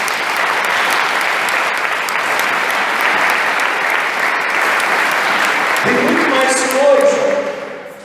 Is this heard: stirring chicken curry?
no